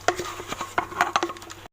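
A knife slicing shallots on a cutting board, giving a series of crisp, irregular chopping taps at close range that stop abruptly, with no talking.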